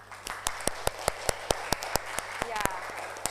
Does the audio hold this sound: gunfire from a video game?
no